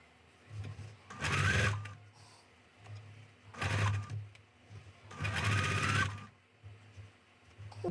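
A sewing machine stitching a pieced quilt block, running in three loud close bursts of rapid mechanical whirring separated by quieter pauses.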